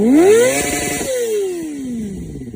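A Kawasaki ZX25R motorcycle fitted with an Akrapovic 2-inch slip-on exhaust revs up sharply, holds briefly, then lets the revs fall away slowly, loud and close with no one talking.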